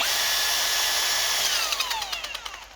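A cordless drill clamped in a vise as a bench mount whirs at high speed, then winds down with a falling pitch and a few rattling pulses as it slows.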